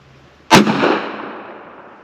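A single loud gunshot from a shotgun fitted with a UUQ red dot sight, firing at an outdoor range, cracks sharply and then rolls off into a long decaying echo lasting over a second.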